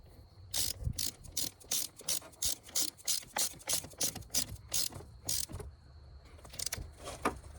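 Ratchet tightening a battery terminal on a Nissan, a run of sharp rhythmic clicking strokes close to the listener, a dozen or so in a row, no talking.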